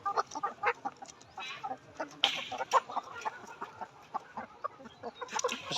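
Several large layer hens crowded into a delivery cage clucking and squawking continuously at close range, with a few sharper cackles standing out over the busy chatter.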